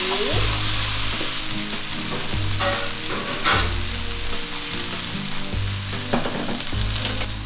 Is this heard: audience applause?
no